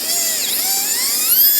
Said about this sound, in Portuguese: eu vou avaliando a penetração da broca. Broca reta